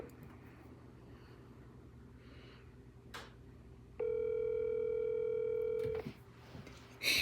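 Outgoing phone call ringback tone, a steady electronic ring lasting about two seconds, moderately loud over faint room noise.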